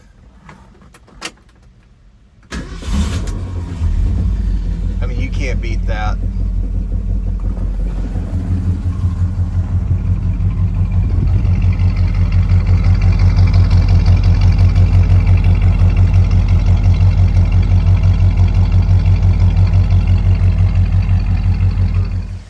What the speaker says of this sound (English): I do love the way that this car sounds, and it just fires up so nice and easy